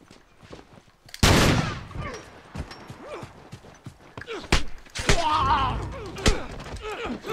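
Gunfire in The Last of Us online match: a loud sharp shot after brief quiet, followed by several more bursts and thuds scattered through the clip, with voices in between.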